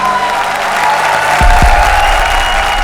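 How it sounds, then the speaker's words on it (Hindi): Studio audience on a comedy show gives loud, dense applause for the comedy pairs, a continuous roar of clapping with a couple of low thumps midway. "एक बार जोरदार तालियां हमारी तीनों जोड़ियों के लिए"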